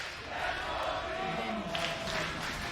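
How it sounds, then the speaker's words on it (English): A crowd in a Berlin esports studio chants for G2 at the 2024 League of Legends Worlds, a loud, dense and continuous roar that fills the whole moment. "crowd here in the Berlin studio. Alive with the sounds of G2 chants"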